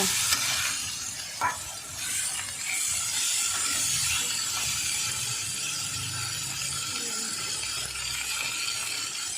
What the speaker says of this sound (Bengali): এই যে আলুগুলো আমি দিয়ে দিচ্ছি। দিয়ে আমি মশলার সঙ্গে সুন্দরভাবে মাখিয়ে নেব।